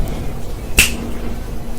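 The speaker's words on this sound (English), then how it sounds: "When I snap my fingers" A single sharp finger snap during a close-up card magic performance, crisp and near in an otherwise quiet, hushed setting.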